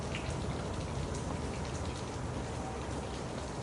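Steady rain falling on surfaces, a dense even hiss of countless drops with no breaks, close and constant, no talking.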